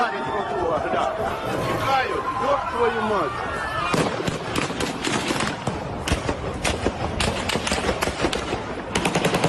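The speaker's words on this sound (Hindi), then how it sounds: "जहां पर प्रदर्शनकारियों पर रूस की सेना ने गोलीबारी की, एक बार देखिए तस्वीर और सुनिए उन गोलियों की आवाज को" Gunfire from the Russian army aimed at protesters in Zaporizhzhia, Ukraine: a chaotic outdoor scene of dense rapid cracks and bursts amid crowd noise and shouting voices, loud and continuous throughout.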